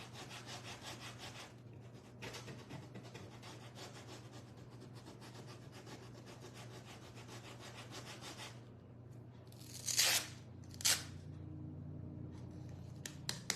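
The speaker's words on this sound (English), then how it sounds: "Sand these just a little." Quiet, steady back-and-forth sanding on wood for the window parts of a DIY surfboard wagon, a continuous rhythmic rasp with a few sharper scrapes near the end, close and faint, no voices.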